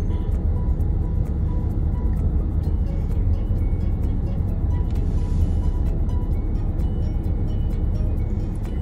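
Heavy afternoon rush-hour road traffic with many cars as workers head home around four o'clock, a steady dense engine rumble that continues throughout, with no clear talk.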